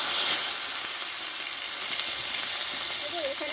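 Nigella and cumin seeds sizzling in hot oil in a pan, giving a loud, steady frying hiss close by, with a faint crackle and a little stirring and no speech.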